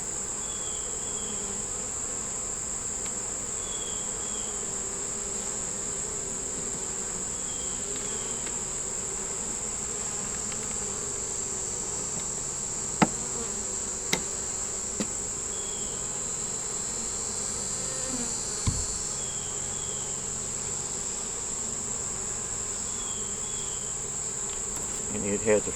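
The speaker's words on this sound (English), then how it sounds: "bees are very calm" Honey bees buzz around a lifted frame from a hive where beetles are present, a steady, even drone near the microphone with a high insect whine and a few faint knocks.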